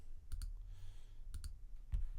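Mouse clicks on a computer during Pro Tools music production work, heard as three close-spaced double clicks, each pair crisp and near, over a faint steady room hum.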